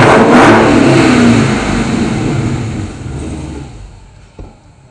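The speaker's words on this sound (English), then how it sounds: "that, my friends, is the sound of 700 horsepower" A powerful 700-horsepower Dodge Challenger engine roars loudly at high revs, then gradually winds down and fades toward idle, ending with a faint click.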